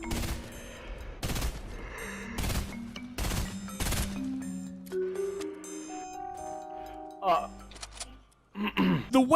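Sharp gunshots in Fortnite ring out as a series of separate loud cracks, roughly one every second or so, over game music and tones, then stop as other sounds take over.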